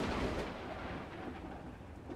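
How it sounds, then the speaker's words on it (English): Thunder from a thunderstorm in the Space Engineers video game rolls as a continuous low, fairly faint rumble with a hissing, rain-like wash, and no voices. "Lightning's still coming down, but the storm's lifted."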